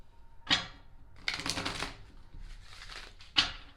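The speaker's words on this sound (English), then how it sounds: "I'm going to shuffle again" Tarot cards are shuffled in a few separate bursts, close up: sharp riffling snaps at the start and end with softer shuffling in between, and no talking.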